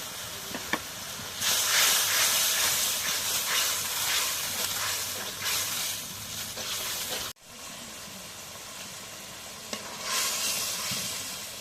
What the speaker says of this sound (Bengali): এখন রসুন বাটা দিয়ে দিই। পেঁয়াজ বাটা দিয়ে দিই।